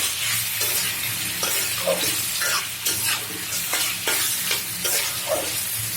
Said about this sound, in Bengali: এই তো কষানো হতে থাক এই তো খুব সুন্দর কষানো হয়েছে